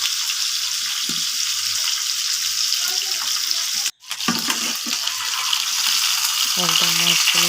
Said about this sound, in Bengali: একদম মাছগুলো দেখেন ভাজা হয়ে গেছে।